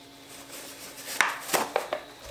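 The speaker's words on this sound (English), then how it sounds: "my neighbors have just started doing some chopping out there. It's making a lot of noise." A few sharp knocks ring out at an uneven pace, neighbors chopping outside heard at a modest distance over a quiet indoor background.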